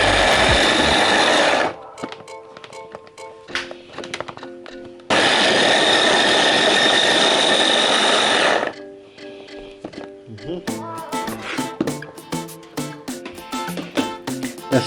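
Blender on turbo chopping ginger and garlic, two loud sustained bursts of high-speed motor whir separated by a quiet gap with clatter, then a stretch of rattling and knocking afterward.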